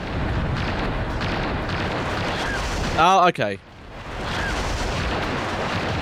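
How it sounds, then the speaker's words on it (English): Helicopter exploding in the video game Virus: It is Aware, a sudden loud burst of blast noise against steady game background hum, briefly followed by a drop to quiet; a person talks briefly nearby. "I thought the helicopter was just spontaneously exploding"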